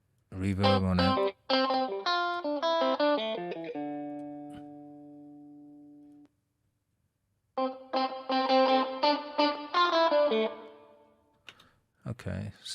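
Musical passages from a mixed rock track with sustained tones ring out and trail off, carrying a spacious reverberant wash from a reverb effect; a held chord decays slowly before the playing resumes.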